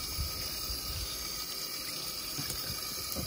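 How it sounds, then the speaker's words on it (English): Tap water runs steadily over a raw salmon fillet being rinsed in a kitchen sink, a continuous close hiss and splash with small shifts as the fish is handled. "I just grabbed the salmon fillet and I like to rinse off all of the sort of sliminess from the"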